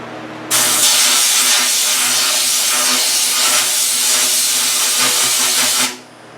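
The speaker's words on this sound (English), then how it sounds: "I'm just going to run some compressed air through it" Compressed air blasts through a part on a Farmall 560 diesel tractor in a steady, loud, close hiss that starts abruptly, holds for about five seconds, then cuts off.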